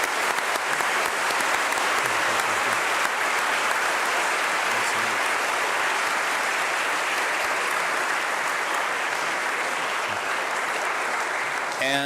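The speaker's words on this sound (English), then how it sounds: "Let's all give him a round of applause" An audience claps for an archbishop at an evening church gathering, with dense sustained applause running steadily and evenly throughout, and a few voices faintly mixed in.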